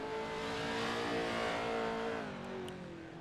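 A sprint car runs a time trial lap at Limaland, its engine a loud, sustained roar that holds steady near the listener, then eases slightly as it moves off.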